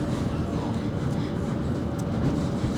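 The low, steady rumble of the Heysham Port train in motion, heard from inside, with a continuous droning roar and no clear talking.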